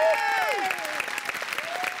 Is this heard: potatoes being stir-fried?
no